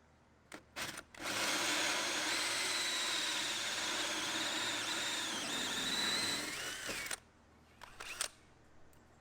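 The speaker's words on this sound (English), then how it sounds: "what you do is you drill onto a scrap piece of wood" A power drill bores into a scrap piece of wood during a Sprinter van bed build: a loud, close, steady whirring grind lasting about six seconds, with a few sharp clicks and knocks before and after.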